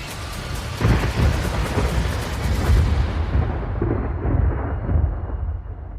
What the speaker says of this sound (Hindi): आसमान में कड़की एक तेज बिजली और शायद आसपास ही कहीं गिरी